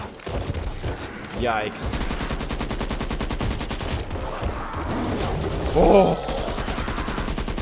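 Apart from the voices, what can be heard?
gunfire in Back 4 Blood video game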